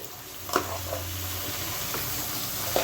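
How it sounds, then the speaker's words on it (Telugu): Ridge gourd pieces and tomatoes are stirred into a chana dal curry in a pan, giving a steady soft sizzle broken by a few brief, light scrapes of the spoon. "ఈ 1/2 కేజీ బీరకాయలండి వేసేస్తున్నాను. ఈ మొత్తం ఒకసారి కలుపుకుందామండి."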